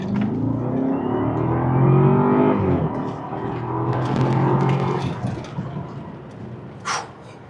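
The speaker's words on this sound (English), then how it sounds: "Let's go for a test drive." A BMW Alpina B7 F01 sedan, freshly repaired after melting damage, accelerates on a test drive. A loud, steady engine drone rises in pitch over several seconds, then eases off into quieter cabin noise.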